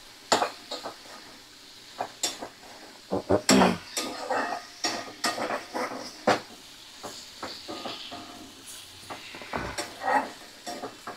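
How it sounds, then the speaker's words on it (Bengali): Food is stirred and sautéed in a pan over a medium flame, the spoon scraping and clanking against the metal in irregular, close strokes above a faint sizzle. "তো দেখো ভালো করে নাড়াচাড়া করে নিচ্ছি আমি, একদম সুন্দর করে কষিয়ে নেব।"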